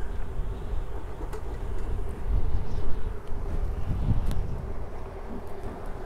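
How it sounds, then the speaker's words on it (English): Steady low rumbling wind noise buffeting outdoors by beehives, continuous and fairly loud throughout, with a few faint clicks and no clear speech. "It's a little windy out here too."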